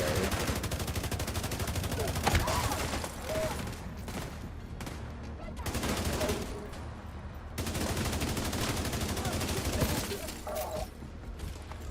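Gunfire in The Division 2 video game comes as dense, rapid automatic bursts that are loud and close and continue almost without pause.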